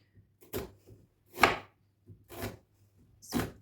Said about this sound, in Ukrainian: нам спочатку потрібно нарізати гарно кубиками цибулю